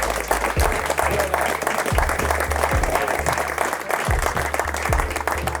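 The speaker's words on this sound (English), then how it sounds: "So a big round of applause for them." Crowd applause at a footgolf event, with a thick, steady wash of clapping over low rumbling thumps like wind or handling noise, sustained and loud throughout.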